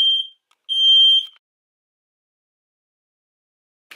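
A household smoke detector going off with two shrill high-pitched beeps close by, the second one longer, then silence and a faint rustle at the end.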